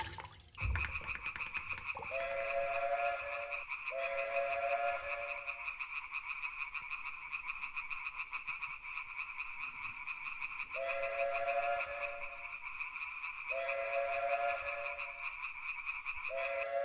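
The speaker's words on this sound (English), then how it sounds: "Lake frogs croaking up a storm as the fans disembark from the ball" Lake frogs croak continuously near a ballpark after a game, a steady dense chorus with repeated louder pulsing calls standing out in bursts, no voices.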